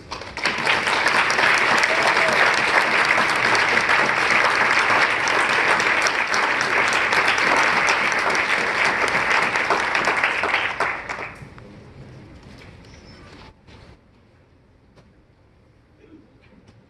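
A large audience at an MLK celebration claps in sustained, dense applause for a visiting reverend, loud and steady for about ten seconds before fading out to quiet room noise.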